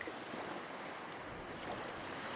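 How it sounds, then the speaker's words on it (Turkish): A steady wash of sea surf rushes continuously, soft and somewhat distant, with no voices and no distinct breaking crashes. "Denizin dalga sesleri eşlik edecek sana"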